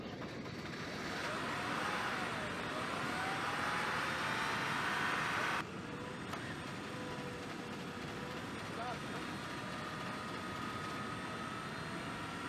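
A car engine, a Benz, runs at steady mid revs after a jump start on a roadside, a broad continuous drone with a shift in tone partway through, heard close and under faint background noise.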